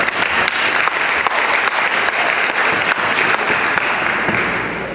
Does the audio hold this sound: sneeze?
no